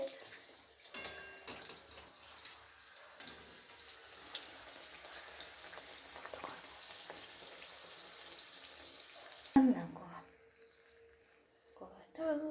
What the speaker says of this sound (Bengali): দেখো যে আমার মা ভাজছে